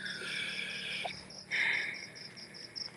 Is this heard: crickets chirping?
yes